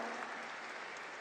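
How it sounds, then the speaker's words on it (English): At a college fall commencement, the crowd gives a short stretch of steady applause, faint and distant, with many hands blending into an even wash. "Let us applaud"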